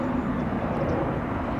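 Engine roar of a Sukhoi Superjet 100-95 airliner, a steady loud broadband jet drone with no breaks.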